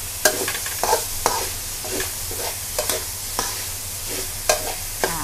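Minced pork stir-fried with chili in a hot pan for a Thai holy basil pork dish with long beans, giving steady close sizzling broken by repeated sharp scrapes and clacks of a spatula, with no talking.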